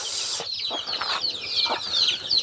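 Chicks clucking and peeping while pecking at melon, close chirpy calls over soft pecking and shuffling noise.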